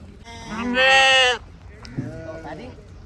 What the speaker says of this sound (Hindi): ये मैंने एक दुम्बे का छोटा सा बच्चा पकड़ा हुआ है